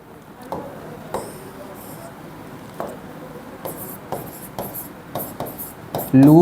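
Chalk or marker strokes on a board during a biology lecture: a series of short, scratchy taps and rubs at irregular intervals, faint and close, with a brief louder scrape at the end.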